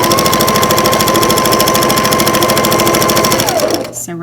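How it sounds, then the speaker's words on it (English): Close and loud, a sewing machine runs a quilt seam through fabric pieces with a continuous rapid stitching hum, then slows and cuts off just before the end. "now I've got it all lined up, and I'm ready to start sewing"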